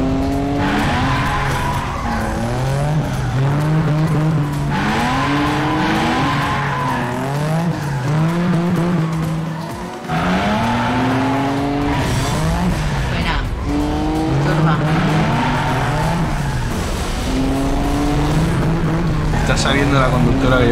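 Race cars in the arcade racing video game Cruis'n Blast rev loudly with turbo boosts, rising and falling engine whines and tire squeals repeating over and over, while people talk excitedly over the game.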